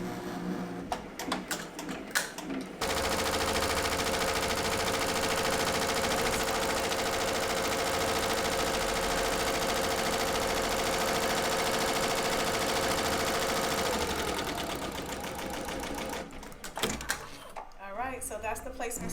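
An embroidery machine stitches a placement stitch at 800 stitches per minute for a side seam bow, a loud, steady mechanical whir running about twelve seconds, with quieter handling sounds before and after.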